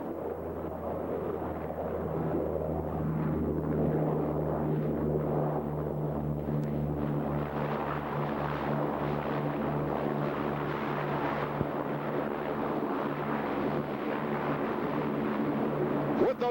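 A propeller airplane just after touchdown with its propellers reversed into deep beta to shorten the ground roll at an airshow, a loud sustained roaring drone with steady throbbing tones, continuous and near, with wind buffeting.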